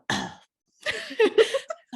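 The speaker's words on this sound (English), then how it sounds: "I've got a cough." A single sharp, close cough breaks out, then after a pause a person speaks briefly.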